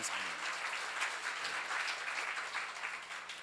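A church congregation claps together at a pastor's seminar, a steady mid-level patter of many hands that holds evenly for a few seconds with no speech over it.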